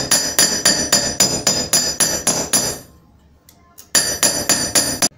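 Rapid hammering on copper to harden it, a steady run of sharp ringing blows that pauses briefly, then resumes with several more strikes.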